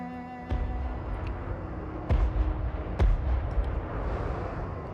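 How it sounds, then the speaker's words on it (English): Cannon artillery fires in a Warhammer dwarf battle video game, with several sharp booming shots spaced about a second apart over a low rumbling battlefield background. "Gotta allow the sound of cannons."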